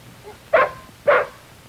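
A dog gives two sharp barks about half a second apart, close and clear over a quiet background, in an old classroom safety film about approaching strange animals.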